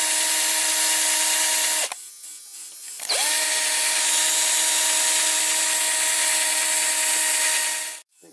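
A power drill spins a toy wheel on its axle while a Dinky Toys Ford Anglia 105e model is restored, giving a steady high whine that briefly cuts out and restarts before winding down.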